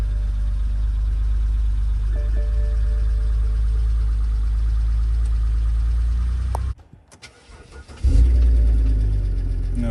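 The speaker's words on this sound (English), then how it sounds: "it's time to start the car up and check the charging system." A BMW E70 X5 with the N52 engine cranks and catches, the steady idle cutting out briefly before the engine fires back up louder and settles into a running hum, close by.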